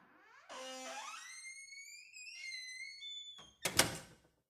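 A door swings shut with a sharp, loud thud near the end, after a stretch of whistling, sweeping electronic tones; no voices.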